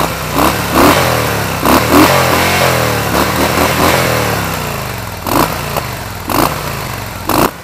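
A Harley-Davidson Softail Slim engine with stock exhaust rumbles nearby and revs in repeated throttle blips, rising and falling, with a few sharp pops between revs.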